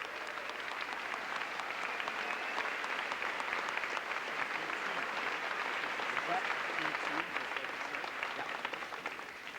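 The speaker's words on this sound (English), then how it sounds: "Let's give the 6th grade, 7th grade, and 8th grade and the high school band another round of applause for doing a great job." A concert audience gives a sustained, dense round of applause for the 6th, 7th and 8th grade and high school bands, a steady wash of clapping with faint voices mixed in.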